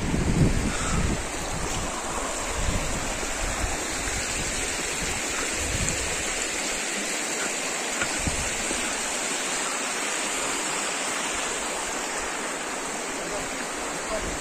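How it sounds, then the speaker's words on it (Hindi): A fast-flowing jungle river rushes steadily near a shrine, a dense broadband roar of water mixed with wind buffeting the microphone, constant throughout. "और नदी का बहाव भी तेज हो गया है अभी।"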